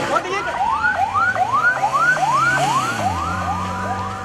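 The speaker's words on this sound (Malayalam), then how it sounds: "തുടർന്ന് 12 മണിയോടെ ഹൃദയം വഹിച്ചുകൊണ്ടുള്ള ആംബുലൻസ് നെടുമ്പാശ്ശേരി വിമാനത്താവളത്തിലേക്ക് പുറപ്പെട്ടു." An ambulance siren wails in repeated rising sweeps, loud and close, carrying a donor heart in Kerala toward Nedumbassery airport, with a low engine rumble beneath.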